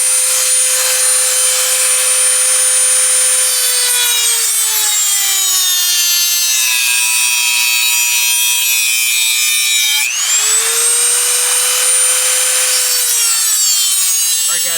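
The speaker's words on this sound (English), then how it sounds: "I'll grab the Dremel, just drill a small hole in here, and then small hole back here." High-pitched whine of a Dremel rotary tool drilling small holes in a toy car frame, pitch sagging as it bites, then rising again on a second pass; loud and close.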